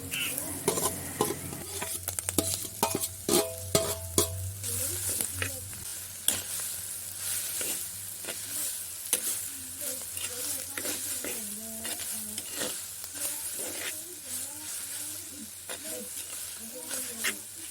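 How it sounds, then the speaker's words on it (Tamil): Cleaned clams stir-fried with spices in a pan for a Tamil-style matti piraddal, giving a steady close sizzle and hiss broken by repeated scraping and stirring clatters of a utensil against the pan, with no talk. "அதோட க்ளீன் பண்ணி வச்சுருக்க மட்டியும் சேர்த்து நல்லா போட்டு விரட்டி எடுத்து கொள்ளுவோம்"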